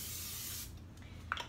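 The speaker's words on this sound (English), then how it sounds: "I'm going to spray a little bit of spray olive oil in a already heated ceramic nonstick pan" Spray olive oil hisses steadily from a can into a heated ceramic nonstick pan for about half a second, followed by a faint light clink.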